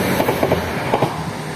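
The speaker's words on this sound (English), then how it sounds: "I don't know if that was a train or a metro." A loud, close train rumbles past with a steady roar and faint rhythmic clicking of wheels over rail joints.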